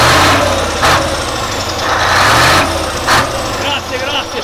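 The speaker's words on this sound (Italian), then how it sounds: "Fammi sentire il rombo, bello il rombo" Iveco TurboStar truck engine in Trentino rumbles close and loud, a deep steady idle swelling in a few short throttle bursts.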